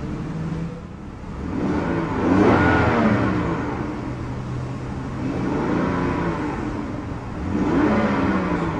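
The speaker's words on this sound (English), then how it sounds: "Very freely revving car." A 2011 BMW 535i M Sport's turbocharged engine revs freely in repeated rising and falling sweeps, loud and close, with no talking.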